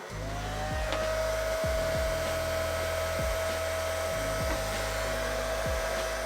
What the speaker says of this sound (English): And then I'll go in and blow dry it again.